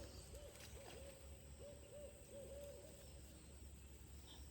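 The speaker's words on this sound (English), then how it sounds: "that's an owl." A series of about five mellow owl hoots in short repeated groups, moderately near, over a steady low background hum with no talking.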